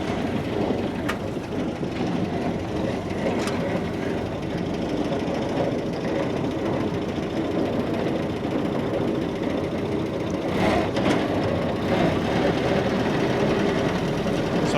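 Engine of a flatfender Jeep runs steadily, a close, loud, continuous rumble with a rapid knocking rhythm throughout and no talking.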